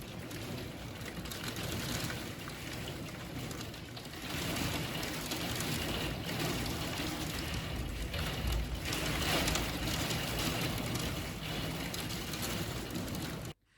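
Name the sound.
heavy rain pouring onto a house roof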